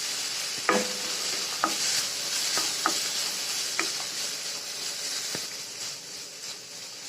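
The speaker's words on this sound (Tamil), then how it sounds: "வெங்காயம் நல்லா வதங்கினோடனே இஞ்சி, பூண்டு, பச்சை மிளகா, வரமிளகாய் சேர்த்துக்கோங்க" Onion, ginger, garlic, green chillies and dried red chillies sauté in a pan with a soft, even hiss, marked by half a dozen sharp spoon taps spaced about a second apart.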